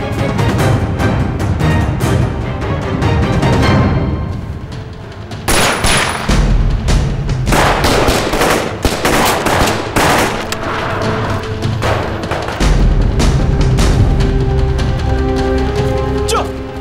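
Gunfire fills a wartime battle scene from an anti-Japanese war film, with loud, dense bursts of rifle and machine-gun shots cracking almost continuously and overlapping.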